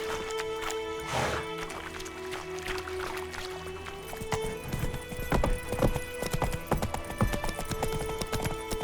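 Roach, a horse in The Witcher 3, gallops with steady rhythmic clip-clop hoofbeats over a game soundscape, and a brief whinny comes near the start; the hooves grow louder toward the end.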